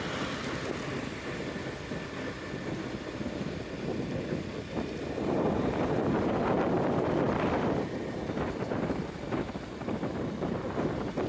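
A motorbike speeds along a highway from Melur toward Madurai, its ride dominated by steady, loud rushing wind buffeting the microphone, growing stronger midway and holding without pause.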